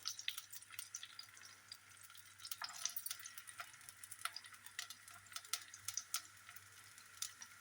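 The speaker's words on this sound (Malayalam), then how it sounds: "അത് നമ്മുടെ വെളിച്ചെണ്ണ ഇവിടെ ചൂടായിട്ടുണ്ട്. ഞാൻ ചെറിയ ഉള്ളി അരിഞ്ഞു വെച്ചതായിട്ട് ഇട്ട് കൊടുക്കാൻ പോകും." Chopped shallots fry in hot coconut oil with a faint, steady crackle and scattered small pops, quiet and close, with no voices.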